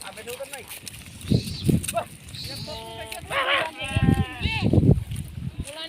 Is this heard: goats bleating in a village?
yes